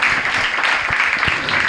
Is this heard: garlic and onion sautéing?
no